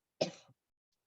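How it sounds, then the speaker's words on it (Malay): A single short cough from a man during a religious lecture, close and isolated, followed by silence. "Maaf, saya batuk sikit."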